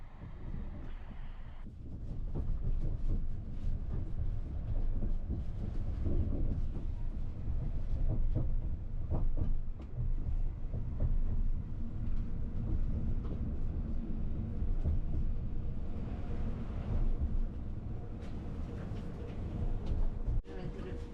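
The Caledonian Sleeper train rolls into Edinburgh Waverley with a continuous low rumble of wheels and carriage noise, steady and close from inside throughout, with faint clanks and a brief squeal near the end.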